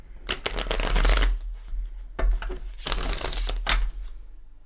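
Gilded Tarot cards are shuffled close by in several quick riffling bursts, each a crisp flutter of cards, separated by short pauses.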